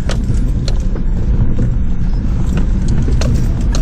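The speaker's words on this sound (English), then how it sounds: "The back end of the car's slipping around a bit." A 4WD car in two-wheel drive slides on a slippery, rocky bush track, with a loud continuous rumbling engine and tyre noise broken by clattering knocks and crunches.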